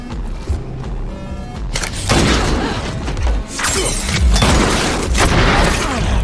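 Explosions in a film fight scene: loud, booming blasts with shattering debris, one heavy burst midway followed by sustained rumbling crashes and further impacts.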